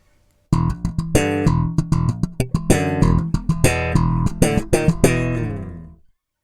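A bass guitar plays the opening two bars of a lick, a quick run of plucked notes with a steady rhythm. The final note rings out and fades alone, with no talk over it.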